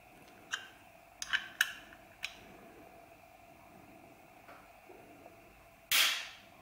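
An Intel 7600K processor being delidded in a Rockit 88 tool, faint scattered clicks and light ticks under a low hum, ending with one sharper, louder clack near the end.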